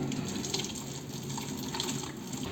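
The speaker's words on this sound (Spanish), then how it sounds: "llenaremos la botella con el agua" Water pours into a plastic bottle with a steady, continuous gushing and splashing, close and fairly quiet, with no voices.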